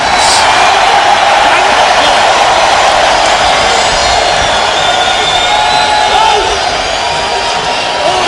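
An XFL football crowd fills a stadium in Orlando with a dense, unbroken roar that stays loud throughout, while a commentator's voice runs on top.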